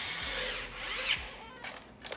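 Power tool, likely an impact wrench, tightening bolts on a Hyundai Genesis Coupe 3.8, a close continuous whirring burst that cuts off, followed by brief rattles of handling.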